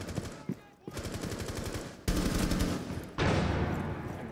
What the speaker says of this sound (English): you're just turning around and spinning, shooting your gun